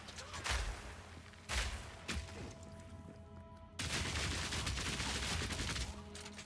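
Enemy grenade blasts in the action game Path of Exile 2, a few sharp booming bursts early on followed by a longer rumbling, crackling stretch of explosions at moderate level with no talk over them.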